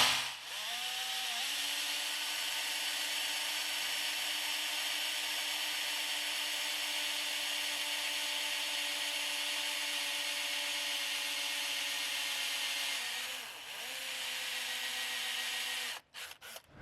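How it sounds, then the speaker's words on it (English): A long, steady high-pitched whine of a drill bit boring through material, running continuously before briefly dipping and then cutting off near the end. "You absolute tragedy of a drill bit."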